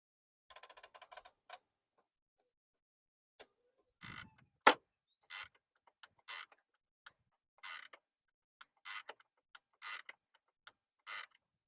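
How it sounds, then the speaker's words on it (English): Parking brake mechanism on the rear brakes of a 2007-2017 Toyota Camry being worked by hand, giving a series of short, dry mechanical clicks and ratcheting ticks, with one sharper snap near the middle, close up with no talking. "now I'm gonna show you how these work when you're pressing the parking brake"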